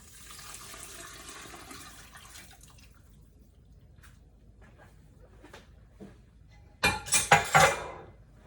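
Liquid for a shepherd's pie is poured into a pot on a stove at medium-high heat, a brief splashing gush with clinks near the end after quieter sizzling and faint knocks.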